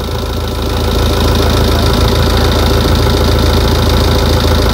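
A Tata Yodha pickup's diesel engine idles close by, a steady, even, knocking throb that holds without a break and with no voices.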